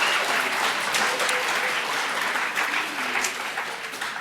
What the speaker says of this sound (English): So let's give everyone one more round of applause.